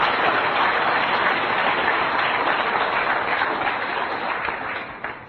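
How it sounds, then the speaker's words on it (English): An audience claps in sustained, steady applause that fades slightly toward the end. "I think we should all thank him with some applause"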